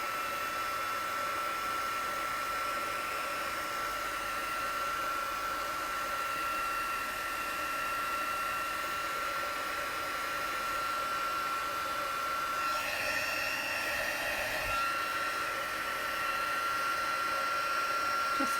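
A heat embossing tool blows a steady, loud, continuous hot-air hiss and hum while heating embossing powder on vellum for a layered Christmas card, unbroken from start to finish.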